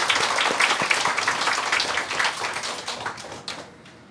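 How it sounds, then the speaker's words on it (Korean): Church congregation applause welcoming a first-time visitor during a Korean worship service, a brisk rapid patter of many hands clapping, close and steady before thinning and fading out at the end, with no voices. "큰 박수로 환영하겠습니다."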